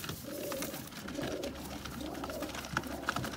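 Sialkoti pigeons in a loft setup coo in a steady run of soft, rolling low calls, several birds overlapping at moderate distance with light clicks and movement.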